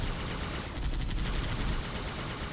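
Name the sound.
gunfire in the Halo video game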